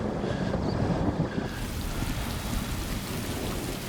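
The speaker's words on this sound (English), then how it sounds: "Just then, the sky breaks and the rain begins to pour." A film scene of a jungle downpour breaking suddenly, with heavy rain roaring and a low thunder rumble at the start, then a steady dense wash of falling water.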